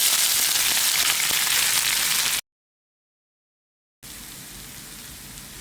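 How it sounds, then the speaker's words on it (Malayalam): Mustard seeds, urad dal, curry leaves and dried chillies sizzle in hot coconut oil, a dense hiss and crackle that cuts out briefly, then returns slightly softer. "കടുക് പൊട്ടി വരുന്നുണ്ട് ചുള്ളിയും കറിവേപ്പിലയും ഉണക്കമുളകും ഒക്കെ അങ്ങോട്ട് ഇട്ട് കൊടുക്കാം"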